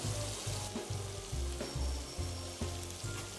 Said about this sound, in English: In medium heat, wait for the butter to slightly caramelize and put your filet mignons.